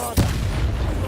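A single sharp blast from the Bombarda explosion spell in Hogwarts Legacy hits near the start, followed by a brief low rumbling tail.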